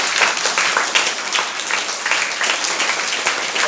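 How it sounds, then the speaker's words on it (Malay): A school assembly audience gives a sustained round of applause, with dense, steady clapping from many hands filling the hall and no break. "Bagi satu tepukan untuk kita."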